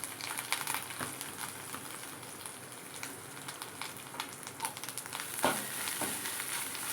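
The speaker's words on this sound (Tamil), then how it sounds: "இந்த தேங்காயை வந்து கொஞ்சம் நல்லா வதக்கிக்கலாம்." Grated coconut sautéing in oil with curry leaves for usili upma, a soft, steady sizzle close by with light crackles and occasional stirring scrapes, no talk.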